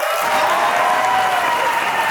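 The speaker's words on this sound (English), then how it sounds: "Where are the claps?" An indoor audience at a lifetime achievement honour for Chiranjeevi claps loudly and steadily, a dense, continuous wash of applause with no pauses.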